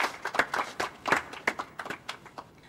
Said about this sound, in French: Il me semble qu'elle mérite d'être accueillie comme à la télé, par des applaudissements chaleureux